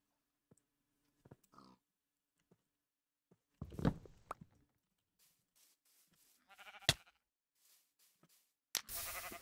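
A few scattered game bleats and animal calls come through sparse clicks and footsteps, with a loud burst of sound at the very end.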